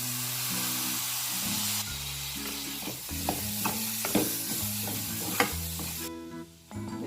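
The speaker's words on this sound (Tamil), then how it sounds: "பச்சை மிளகா போட்டுடலாம். தக்காளி போட்டுடலாம்." Green chilies and tomatoes sizzle in hot oil in a pan for a pointed gourd curry, with a steady frying hiss and occasional stirring clinks and scrapes, close by.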